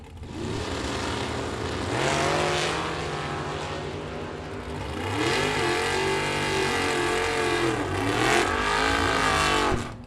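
Drag race cars launching at an index racing event, including a Chevrolet Nova, their engines roaring loud and close, rising and falling in pitch as they pull away, with a second surge later.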